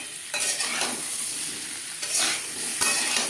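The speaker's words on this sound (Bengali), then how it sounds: "আলু আমি হালকা করে ভেজে নেব।" Boiled potatoes seasoned with turmeric and salt frying lightly in a pan for mutton biryani, a close, steady sizzle with bursts of hiss as they are stirred, and no one speaking.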